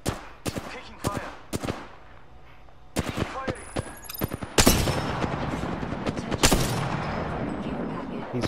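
Sharp, close gunshots from a shooter game, first as a few spaced single cracks, then a dense stretch of rapid fire and bursts that continues to the end.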